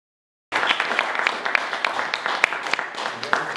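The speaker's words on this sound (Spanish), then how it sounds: "Reiteramos otro aplauso." Audience clapping after a public health and climate change conference in Morelia, Michoacán, starting abruptly after brief silence, with sharp individual claps standing out over a steady patter.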